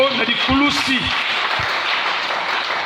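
A church congregation applauds in steady, moderately loud clapping that fills the space, with a voice speaking briefly over the start.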